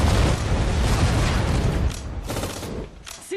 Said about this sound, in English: We're going to use our anti-tank grenades.